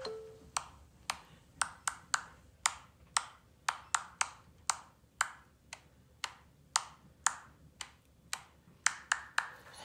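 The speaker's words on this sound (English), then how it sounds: "now it's not a good time to do that because we're just hand clapping" Hand claps from an Orff teaching app, a sharp, evenly paced run of crisp single and paired claps repeating in a lively rhythm, fairly close and clean against a quiet background.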